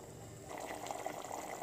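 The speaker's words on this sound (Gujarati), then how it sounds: "હવે આપણે તેમાં થોડુંક પાણી એડ કરી દઈશું" Water poured into a pan of drumstick and tomato gravy curry on a home stove, a soft steady trickle and splash heard close and faint, with no talk over it.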